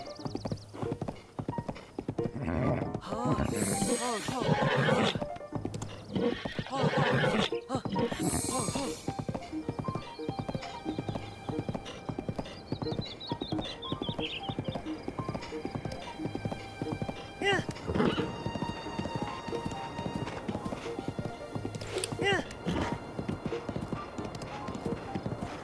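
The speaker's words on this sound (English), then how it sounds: "Horse is throwing a fit." A horse in Zelda: Breath of the Wild throws a fit, with rhythmic hoof clops and several shrill neighs and whinnies over game music and effects, and a voice talking at times.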